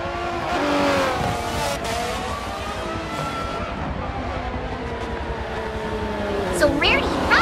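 F1 race cars in the Forza video game on the Nurburgring pace lap, engines revving and whining past with rising and falling pitch, overlapping cars at moderate distance, with a tire squeal near the end and voices speaking.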